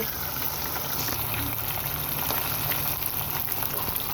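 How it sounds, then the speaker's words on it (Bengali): Oil sizzles and bubbles steadily as fish fry in it, a continuous crackling fry with small pops, close by and without talking. "এখন আমি মাছগুলোকে ভালো করে একটু সময় নিয়ে ভেজে নেব"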